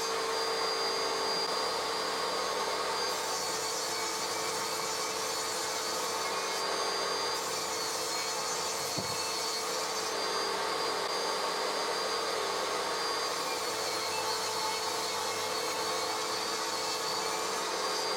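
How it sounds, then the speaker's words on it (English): A table saw ripping plywood into 30mm strips runs as a steady, loud whine from start to finish, the tone shifting slightly as each cut goes through, with no voices. "I ripped the pieces of plywood that I had into as many 30mm strips as I could get out of them."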